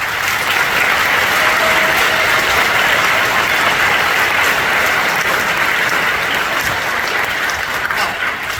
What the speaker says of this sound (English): So can we have a big round of applause for those folks?